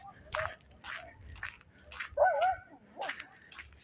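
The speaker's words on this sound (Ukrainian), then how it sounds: "Собаки валують" Several dogs bark and yip in short bursts, one letting out a whining whimper, nearby and irregular.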